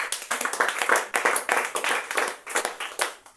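A church congregation claps in fast, irregular bursts during a lively worship moment, the applause fairly soft and close with no clear cheering voices.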